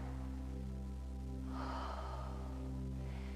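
Someone in a beginners' yoga class takes one audible breath, a soft breathy exhale rising midway over a steady low hum.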